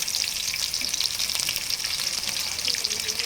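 Onions frying in oil for chicken dum biryani give a steady, dense crackling sizzle that holds evenly throughout, close and fairly loud with no voices.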